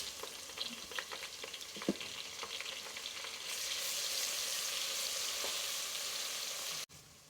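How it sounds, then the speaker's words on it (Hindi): Garlic and ginger paste sizzles and spatters in hot oil for a tadka at the start of a degi chana pulao, with stirring scrapes in a pan, the frying growing louder and steadier midway before a sudden stop. "अभी इसमें लहसुन और अदरक का पेस्ट शामिल करेंगे।"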